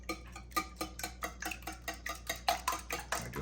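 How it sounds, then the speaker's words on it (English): Eggs and a splash of whole milk are whisked in a container, a quick, regular clatter of wire against the sides, about four strokes a second, fairly quiet and close with no talking. "Just whisk them up really good."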